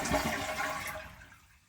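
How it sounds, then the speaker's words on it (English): An American Standard toilet with a faulty fill valve and a float that won't rise flushes in a single close rushing whoosh that fades out quickly, with no talking. "You flush it,"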